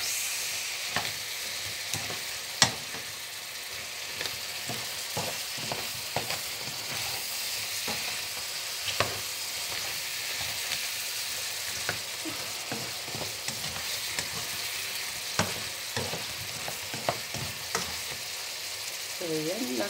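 Shrimp fry steadily in butter with garlic, a continuous close sizzle broken by occasional stirring clicks and pops of the pan, with no talking.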